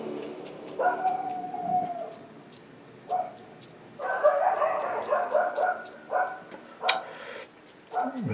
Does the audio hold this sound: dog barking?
yes